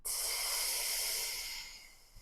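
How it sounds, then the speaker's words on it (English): A single long, steady exhale of breath during a Pilates stretch, close and airy, fading out over about two seconds with no talking. "Let's take a long inhale here. And a long breath out."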